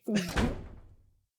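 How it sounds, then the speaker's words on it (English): Door sound in the video game Deadly Premonition 2: two quick heavy thunks close together, the second a solid slam with a short booming tail that fades out. "Door sound effect."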